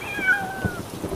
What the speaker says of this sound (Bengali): বিড়ালটা ডেকে উঠলো